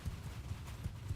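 Horse hooves clip-clopping in the Bannerlord video game, a steady rapid galloping thud repeating close and low throughout, alone without talk.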